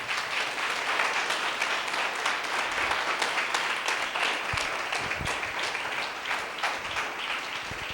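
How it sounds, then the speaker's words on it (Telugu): A church congregation at a Sunday service claps together loudly and continuously, a dense, even patter of many hands filling the room with no voices rising above it. "ఒక్కసారి గట్టిగా చప్పట్లు కొట్టి ప్రభు నామను మహిమపరుద్దాం"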